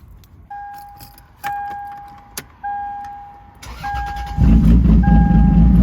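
A car engine is started with a faulty key and runs rough. Several short cranking attempts come first, then the engine catches and settles into a loud, uneven, rumbling idle close by. No one speaks.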